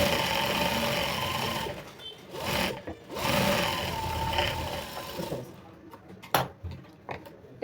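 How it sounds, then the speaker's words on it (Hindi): A sewing machine stitches a seam on a blouse in continuous runs with brief pauses, loud and close, ending in short bursts and clicks. "अब नीचे साइड में हम इस पे एक दाब सिलाई लगा देंगे।"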